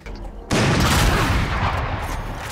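Gunfire in the video game Valorant: a sharp, loud burst of shots that begins abruptly, then a sustained noisy crackle and rumble as the reports ring out, with no talking.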